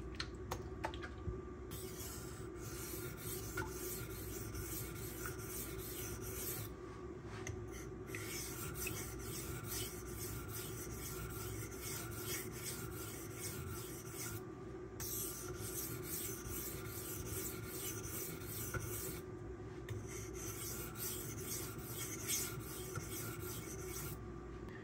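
A Kershaw Bel Air knife with a MagnaCut steel blade is drawn across a 1000 grit sharpening stone, giving a steady, continuous near rasping rub with short pauses between passes and no talking.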